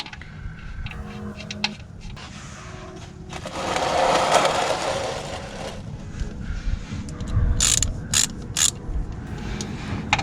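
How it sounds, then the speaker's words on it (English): A ratchet tightens the oil drain plug on a 2005 Volvo S40 with a 2.4L engine, giving soft mechanical clicks and scraping close by, with no one speaking. "You're tightening down your drain plug,"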